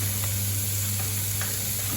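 Bacon frying in a pan for a Caesar salad, giving a steady, dense sizzle with a constant low hum beneath it, no voices.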